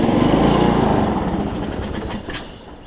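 A Weed Eater AYP riding mower engine cranks and sputters as it tries to start, a loud steady mechanical churn that gradually fades toward the end.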